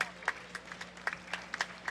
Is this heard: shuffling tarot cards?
no